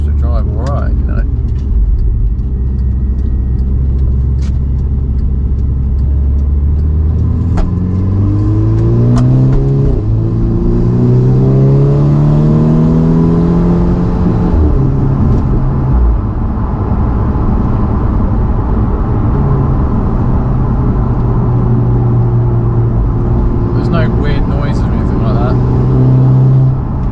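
A Volkswagen Golf R Mk6 engine fitted with a ram air induction kit, heard from inside as it pulls and revs up with rising induction noise, then settles to a steady drone, with someone talking over it throughout.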